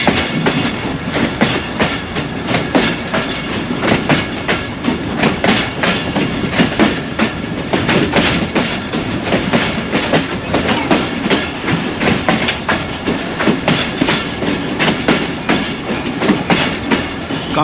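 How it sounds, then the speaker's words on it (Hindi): A passenger train runs along the Narowal branch loop line between Lahore and Narowal, its wheels clattering in a steady, loud clickety-clack rhythm close by, with no talking. "लूप लाइन पर हो चुकी है ट्रेन।"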